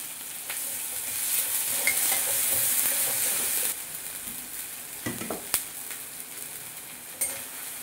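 Chopped green chillies added to frying masala for a thin katla fish curry, a close steady sizzle with spoon scrapes and a couple of sharp clinks against the pan.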